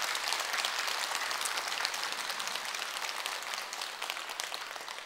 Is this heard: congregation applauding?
yes